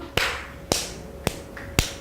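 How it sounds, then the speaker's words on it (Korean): Four sharp, separate claps ring out at an even pace, about half a second apart, in a quiet room during a live broadcast, with each crisp crack fading quickly and no talk between them. "박수!"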